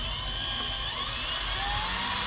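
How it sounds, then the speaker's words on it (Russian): A power drill bores a hole through the shell of a daf frame drum, a steady high whine with a slight rising pitch, close and continuous throughout, with no talking. "Так, короче, ребят, потихонечку сверлим, сверлим."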